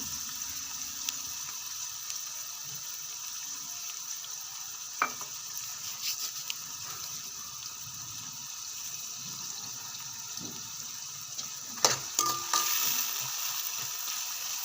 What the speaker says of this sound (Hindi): आहिस्ता आहिस्ता अपने प्याज जो है इनको हिलाते रहें ताकि ये नीचे ना लग जाए।